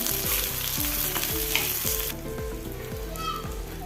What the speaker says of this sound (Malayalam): അതും കൂടി എണ്ണയിലിട്ട് കൊടുക്കാം നല്ലപോലെ ഇളക്കി കൊടുക്കുക പച്ചമുളക് ഒന്ന് വാടി വരണം